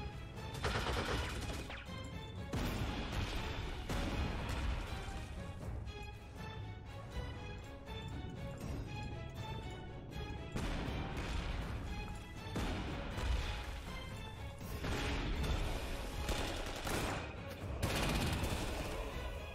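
Aircraft strafing runs in the Panzer Corps 2 strategy game rattle out as dense, sustained bursts of rapid gunfire with crashing impacts, loud and continuous in several waves with brief lulls between.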